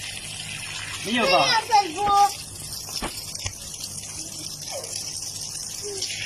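Muddy drinking water gushes and splashes from a supply pipe in Fallujah, a steady rushing flow close by with a voice speaking briefly over it.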